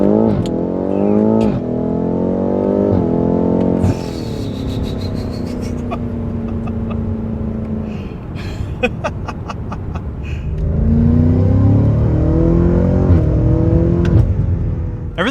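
A BMW M5 CS accelerates hard, its engine rising in repeated revving sweeps through the gears with brief dips at each shift, loud and close from inside the car.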